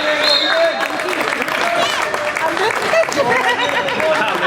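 Spectators clapping steadily through a youth handball match in Berga, a dense continuous patter of applause mixed with crowd chatter and voices talking over it.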